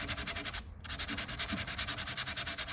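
Sandpaper is rubbed over ebony binding on a curly maple dreadnought guitar body, a rapid rhythmic back-and-forth scratching close to the microphone with one brief pause midway.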